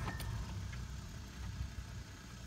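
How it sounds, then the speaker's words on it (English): The outboard engine of a Sunchaser pontoon boat at Star Lake idles with a low, steady rumble and a slight uneven pulse. It is fairly quiet and heard alone. "with the battery on and the throttle set to neutral, you turn on the ignition"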